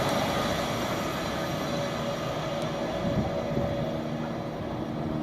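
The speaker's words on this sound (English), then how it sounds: "So that's the Pendolino zooming away." A Pendolino electric train on the West Coast Main Line at Watford Junction speeds away, a steady, loud broadband rush of wheels and air that holds evenly throughout with no talking.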